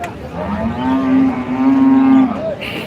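A single long, loud cow moo at a cattle market, close by and steady for over a second before trailing off, with faint background murmur.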